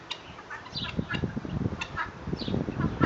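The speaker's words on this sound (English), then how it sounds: "You can hear her clucking every now and then." A broody hen clucks close by in short, soft, irregular bursts, a low murmuring run of clucks spread over a few seconds.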